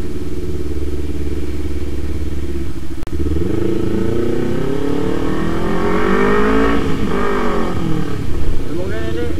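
A Kawasaki Z250 motorcycle with an aftermarket exhaust idles with a throaty rumble, then revs up and down repeatedly, loud and close, with a deep, rough exhaust note.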